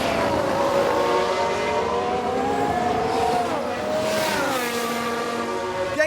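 An Aston Martin Formula One car racing in F1 Manager 22, its high engine whine rising and falling through gear changes while other cars pass close by, loud and continuous with no voices.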